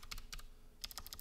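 Quick, quiet bursts of keystrokes click on a computer keyboard in short clusters with a brief pause between them, close but soft.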